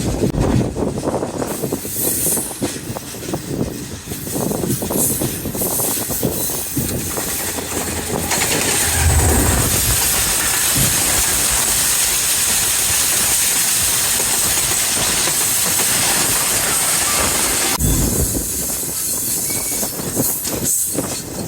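Hazara Express rushing past on the railway line in Pakistan, a loud, steady roar and hiss of rolling wheels and cars close by, building up and holding for most of the stretch with no talking.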